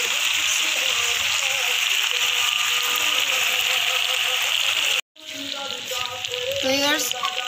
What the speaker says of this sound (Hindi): इसे हम 4 से 5 मिनट मज़ीद भूनेंगे